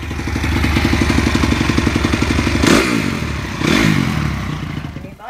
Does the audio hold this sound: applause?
no